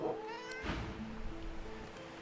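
A cat meows in the video game Divinity Original Sin 2, with one clear, drawn-out cry near the start and a few fainter mewing calls after it. A steady wash of in-game ambience plays underneath.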